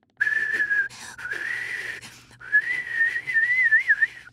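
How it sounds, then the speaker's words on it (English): A clear melodic whistle wavers up and down in pitch, broken into a few phrases with short pauses, fairly close and steady in loudness. "We've been hearing all sorts of whistling"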